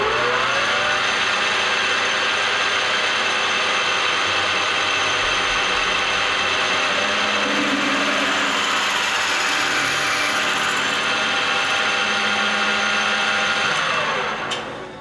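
A steady, loud mechanical whir of a drill grinding into a small metal part runs continuously, with a slight shift in pitch partway through before it winds down.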